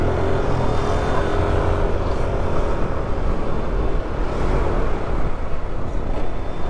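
Constant, loud roar of heavy road traffic on a motorcycle ride toward Manila, a dense rumble of engines and tires with wind noise and no voices.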